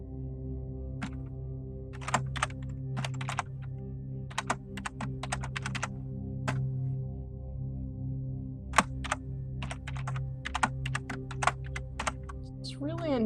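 Keys clatter on a computer keyboard as a password is entered, with irregular bursts of clicks spread over a steady low hum and a voice talking faintly beneath.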